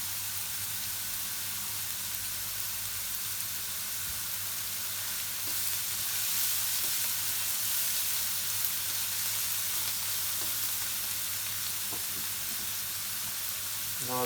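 Chopped white onion, garlic, celery and ginger fry in a pan with a steady, loud sizzle that stays even throughout, with faint stirring clicks and no talk.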